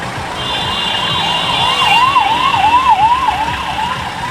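A loud ambulance siren wails in a rapid rising-and-falling pattern as it passes close by on a road near Hampi, with steady traffic noise underneath.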